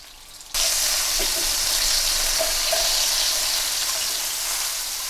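Lamb rogan josh meatballs fry in a hot pan, a steady close sizzle and crackle that starts abruptly after a brief quiet moment and holds loud and even with small pops throughout.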